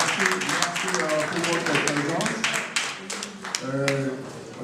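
An audience claps for political party leaders standing at an anniversary celebration in Paris, with uneven, scattered applause running throughout under a murmur of voices.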